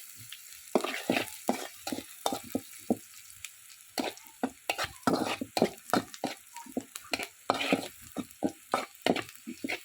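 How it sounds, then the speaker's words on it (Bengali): Spice paste fries lightly in oil in a wok with irregular soft sizzles and the scraping clatter of stirring, close and moderately quiet. "পেস্টটা একটু হালকা ভাজা দিয়ে নেব"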